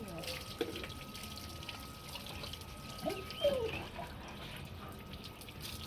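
Water runs and splashes as it is poured over a pet during its bath, a steady trickling wash with a few louder splashes, while a person talks over it.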